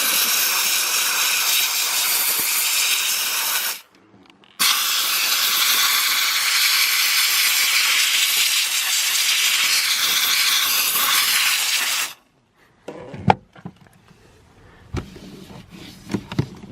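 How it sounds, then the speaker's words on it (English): Steam cleaner blasting into car interior vents, a loud close hiss that runs for several seconds, cuts out briefly, resumes, then stops, followed by scattered knocks and handling sounds. "Then take my steamer and then blow it out."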